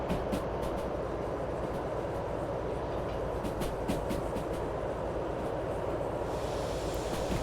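Steady rumble and rhythmic clatter of a DH4 train running along the track in a train simulator game, a continuous loud drone with faint higher clicks throughout.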